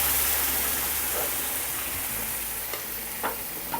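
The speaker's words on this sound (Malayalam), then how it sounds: "ഇതൊന്ന് ഇളക്കി കൊടുക്കട്ടെ." A spoon stirs a tapioca and chickpea masala curry in a pan with the gas turned off, a steady close wash of soft scraping and bubbling, with faint clinks near the end and no talk.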